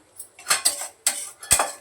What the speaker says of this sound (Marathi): तर ही कढाई ठेवली